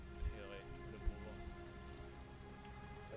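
Steady patter of rain in the video game Heavy Rain, a soft continuous wash with a couple of low thumps near the start, fairly quiet under faint game ambience.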